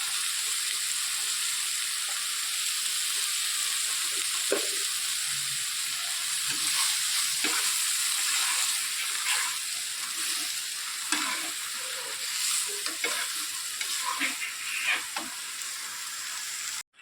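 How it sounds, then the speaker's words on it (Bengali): Cauliflower florets frying in oil in a pan with a little turmeric, giving a steady close sizzle with crackling pops and occasional stirring scrapes throughout, no talking. "ফুলকপি ভাজা হয়ে গেছে, নামিয়ে নেব"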